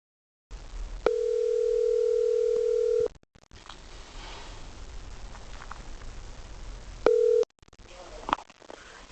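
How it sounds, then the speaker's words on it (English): A steady telephone tone sounds for about two seconds, followed by faint line hiss and rustling, then a brief second tone near the end. "I took down the number and called Colin straight away"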